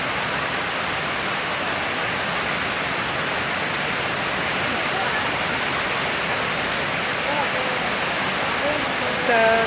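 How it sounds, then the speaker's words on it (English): Heavy rain pours down steadily over a village in the Philippines, a dense unbroken hiss that stays loud and close throughout, with faint voices and a brief whistle-like tone near the end. "there's too much rain right now."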